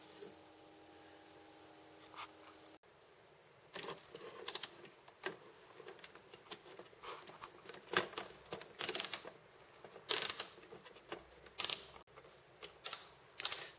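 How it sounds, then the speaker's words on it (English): Bolts on a 2006-or-later Honda GL1800 motorcycle fairing, 5mm Allen heads, being worked loose: scattered sharp close clicks and metallic taps, irregular and growing busier, with no talking. "Now with the fairing trim pieces off, we'll be taking out these bolts here."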